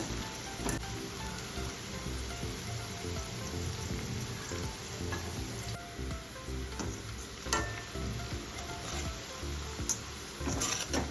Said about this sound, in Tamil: இந்த வெங்காயம் வந்து மீடியம் ஃப்ளேமில் வச்சு நல்லா குக் பண்ணணும்